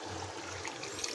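Water or broth poured into a pot of beef and chickpea lentil curry, a steady close splashing and trickling pour with no talk.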